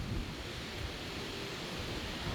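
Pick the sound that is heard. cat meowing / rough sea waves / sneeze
rough sea waves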